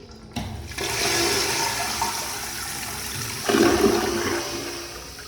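A toilet flushing in a men's restroom at World Market, a loud close rushing gush of water that swells again midway as the bowl drains and refills.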